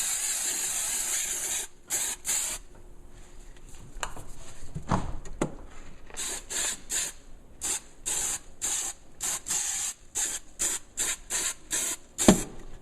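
Bursts of spray adhesive hiss from an aerosol can onto a motorcycle saddlebag liner during an Indian Motorcycle liner kit install, starting as short spurts and becoming a steady run of repeated, close, fairly loud blasts with brief pauses.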